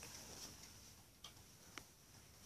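A Stanley mechanical timer gives two faint, sharp clicks as its dial is turned, a quiet tick about half a second after another over low background hiss, with no talking.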